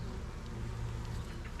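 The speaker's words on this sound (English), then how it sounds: "is the humming of the bees right next to me" Bees of various kinds feed on flowering ivy beside a drive, making a steady, close, continuous hum throughout with no speech.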